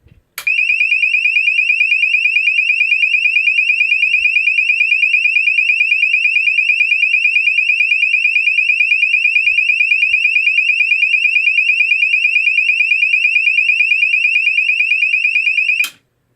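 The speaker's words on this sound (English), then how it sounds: "2400 hertz to 2900 hertz sweep at 9 hertz rate. You'll see this as the British standard high frequency medium sweep." A GE AS363 alarm sounds a continuous high-pitched tone that sweeps between 2400 and 2900 Hz at a fast 9 Hz warble, loud and steady for about fifteen seconds before cutting off abruptly.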